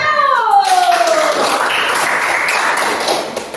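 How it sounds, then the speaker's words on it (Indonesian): Classroom audience clapping for a presentation group, a steady patter of many hands that begins after a falling tone and continues evenly at moderate loudness, close by. "Yuk kita beri aplaus sekali lagi untuk kelompok 1."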